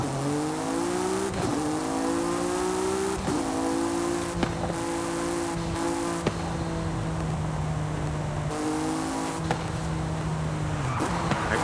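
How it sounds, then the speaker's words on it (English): An upgraded Acura NSX with its rear wing removed drives in Forza Horizon 5, its engine rising through gears in repeated climbing revs with brief shift breaks, steady and close, with faint tire noise near the end. "Let's drive the last 5 meters ourselves. With the Acura NSX, a car that I recently upgraded myself"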